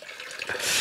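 Water starts gushing from a tap, the rushing hiss swelling louder over a second, close by.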